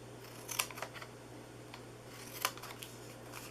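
Scissors cutting into the sides of a paper treat box, two crisp close snips about two seconds apart with a few faint paper rustles over low background hum.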